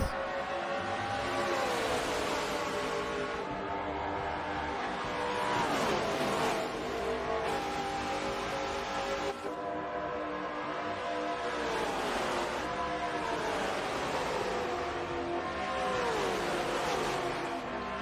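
NASCAR stock cars at Indianapolis in a racing video game, engines roaring at full throttle as the field races after the green flag, with loud, steady drones swelling and sweeping as cars pass in repeated waves.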